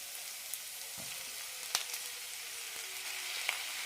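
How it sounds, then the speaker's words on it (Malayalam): Onions with tomatoes and green chillies frying in a pan for an onion curry, giving a quiet, steady sizzle with a few sharp pops and clinks, no voices. "സവാള റെഡി ആയിട്ടുണ്ട് ഇതിലേക്ക് തക്കാളിയും പച്ചമുളകും ഇടാം"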